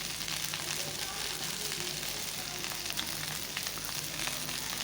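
Okra (ladies finger) sautés in oil with turmeric and salt, giving a continuous dense sizzle, close and steady, with faint stirring clicks running through it.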